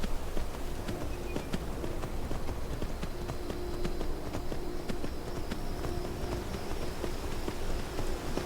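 Horse hooves clip-clop at a steady walking pace throughout in Skyrim, a regular rhythm of close hoofbeats over a constant outdoor wash that sounds like rain or wind.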